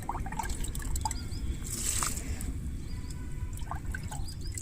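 Diluted liquid fertilizer poured onto a potted curry leaf plant, a soft trickle and dribble of liquid soaking into soil, faint and close with light background noise.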